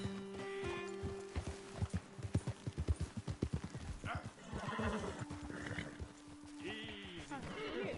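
Rhythmic horse hooves clip-clop in a steady run that slows, with a horse whinnying and game-like music and ambience around them, in the video game Red Dead Redemption 2.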